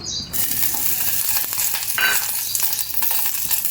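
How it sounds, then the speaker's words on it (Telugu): Dried red chilies frying in oil in a heated pot give a steady, close broadband sizzle, with stirring scrapes and crackles throughout and no voices. "మిరపకాయలు మంచిగా వేయించుకోవాలి నూనెలో"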